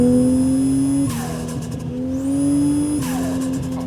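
A turbocharged Toyota Chaser's 1JZ engine with a J-pipe revs hard under full load and climbs in pitch, drops briefly as it shifts, then surges again, loud and close.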